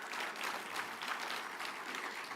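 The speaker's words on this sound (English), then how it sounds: "I think she deserves another hearty clap." A conference audience gives a hearty round of clapping, a dense, steady patter of many hands at moderate loudness with no talk.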